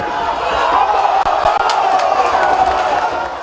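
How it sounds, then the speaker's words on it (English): Football fans of Bendel Insurance FC, also known as Benin Arsenals, raise a dense, steady crowd roar of cheering and applause, loud and sustained throughout with a few brief dips. "Team displays some good skills which attracted applause from the fans."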